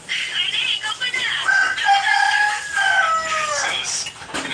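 Chickens cluck while a rooster crows loudly nearby in a long, drawn-out call, with more fowl calls overlapping in a rural yard.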